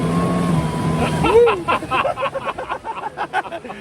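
A small homemade motorboat's engine roars at high revs, pulsing rhythmically after a brief rising whine, loud and close.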